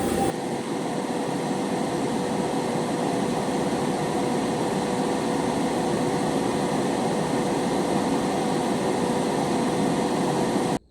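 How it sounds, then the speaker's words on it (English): A dual-action airbrush blowing plain air to dry paint while customizing a VW delivery van, a loud constant rushing hiss holding steady for about ten seconds before cutting off abruptly, with no talking. "right now I'm just using the dual action to blow some air"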